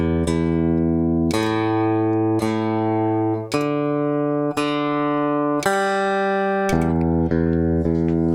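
Open guitar strings played and looped on an Echoplex Digital Pro, a sequence of clear ringing plucked notes and chords, each struck sharply and sustaining before the next, layered into a bright droning loop.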